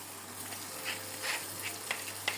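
Oil sizzles softly in a pan while something cooks, with a few brief scraping or crackling bursts over a faint steady hiss, close but quiet. No speech.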